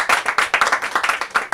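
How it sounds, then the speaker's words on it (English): An audience at a talk session applauds briefly, a dense patter of many hands clapping at moderate distance with no voices over it. "Please do give him a round of applause."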